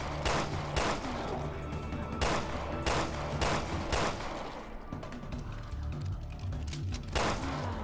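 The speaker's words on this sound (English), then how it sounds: "Plenty of pistol shots." Pistol shots in the survival horror game Resident Evil: Revelations 2 ring out as sharp, separate bangs, roughly every second, over a low droning game ambience with mechanical clanks between them.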